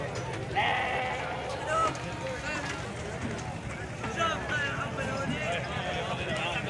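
Sheep bleat repeatedly at a busy livestock market in Jibreen, Aleppo, with overlapping animal calls over a constant crowd murmur and people talking nearby.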